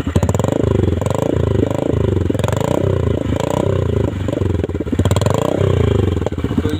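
A Honda SP 125 motorcycle with a modified exhaust revs up close, its engine giving a loud, rhythmic burbling growl that swells and drops with each throttle blip, alone without talk.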